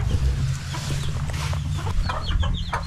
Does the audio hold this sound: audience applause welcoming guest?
no